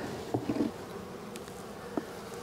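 Honeybees hum steadily around hive frames during a feeding check, a continuous close drone with a few soft knocks of frames being handled.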